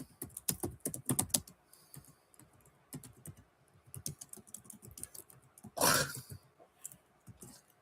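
Fingers type rapidly on a computer keyboard at close range, with a dense flurry of clicks at first, then sparser keystrokes, and a brief throat-clearing-like noise near the end.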